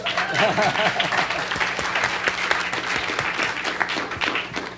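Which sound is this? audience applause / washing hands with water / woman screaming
audience applause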